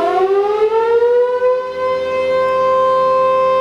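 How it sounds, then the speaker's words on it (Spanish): A Chilean fire company's electric siren sounds the noon signal, a loud, steady wail rising at the start and then holding a continuous tone for the full few seconds, with no voices. "posteriormente ese tono hago el toque de sirena"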